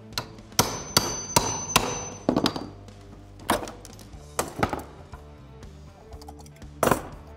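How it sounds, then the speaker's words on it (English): Hammer blows with wrecking tools driving a rivet out of an old ladder rail, about a dozen sharp metallic strikes in irregular bursts, loud and close with quieter gaps between. "we're gonna take some wrecking tools in hand and see if we can pop that rivet out straight through the rail"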